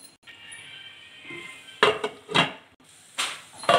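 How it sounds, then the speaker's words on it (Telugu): A lid is set onto a cooking pot of tomatoes being prepared for a dal with Cassia fistula flowers, giving a few sharp metallic clanks and clatters close by, with no talking. "కొంచెం ఈ టమాటాలు మగ్గిన దాకా మూత పెట్టేసుకుందాం"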